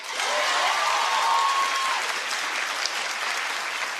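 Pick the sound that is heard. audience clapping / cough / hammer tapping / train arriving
audience clapping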